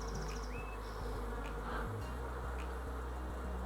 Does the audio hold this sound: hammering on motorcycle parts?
no